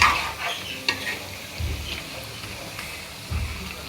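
Chicken curry stirred in a cooking pot, with repeated scraping strokes and low thumps over a soft sizzle, close up and in an uneven rhythm.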